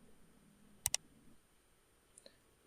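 A computer mouse gives two sharp, quick clicks in a row while an AutoCAD file is being opened, followed by a fainter tick, all quiet and close.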